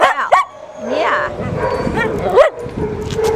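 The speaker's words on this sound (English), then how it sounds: "this little beagle's scared to death of her own shadow" A frightened beagle in an animal shelter whimpers and yips in rising cries with a few barks, close and loud, while other dogs and a person talking are heard around it.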